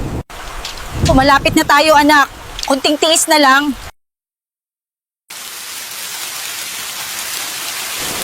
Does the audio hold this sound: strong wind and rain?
yes